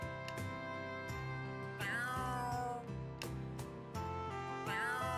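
A cat meows in the video game Trails Through Daybreak, several short tonal mews rising and falling over steady game background music, fairly faint in the mix.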